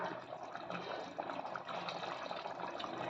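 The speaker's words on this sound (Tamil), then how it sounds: "நல்லா வதங்கிருச்சு கெட்டியான தேங்காய் பால் ஊற்றிக்கலாம்" Thick coconut milk is poured into a pan of sautéed tomato chicken, a faint, steady liquid rush and gurgle that continues throughout.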